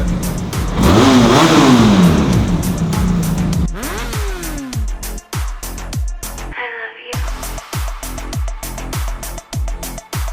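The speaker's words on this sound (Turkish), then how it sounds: "Ninja 1000 SX. Gazlar bakayım sesi." A loud Kawasaki Ninja 1000 SX motorcycle engine revs up and down repeatedly with sharp throttle blips and rising, falling pitch, close by and without speech.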